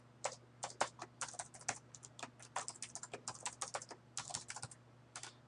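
A password goes in on a computer keyboard during an Oracle Linux 6 install, a quick, uneven run of crisp keystrokes heard close and fairly quiet over a low steady hum, with no talk.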